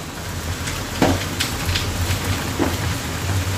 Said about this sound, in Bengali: আর এই যে বৃষ্টি, বৃষ্টি হয়েই যাচ্ছে